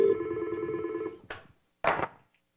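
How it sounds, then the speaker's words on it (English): A phone rings on a receptionist's office phone system, one steady electronic ring tone lasting about a second, followed by a couple of short clicking bursts, close and fairly quiet, with no talking. "now Johnny's phone's ringing"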